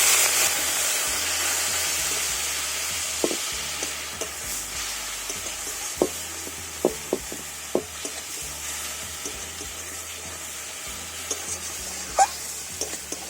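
A little water poured onto half-spoon amounts of turmeric and cumin powder sizzles steadily in a pan for a pomfret curry, while a spoon stirs with soft, intermittent scrapes and ticks against the metal.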